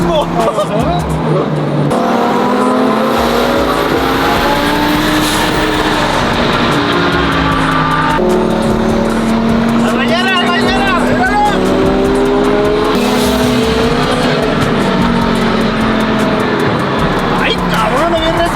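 Twin turbo Lamborghini Huracán on the streets of Houston, the engine loud and close, revving up through repeated rising pulls and shifts with bursts of tire noise, while excited voices talk over it.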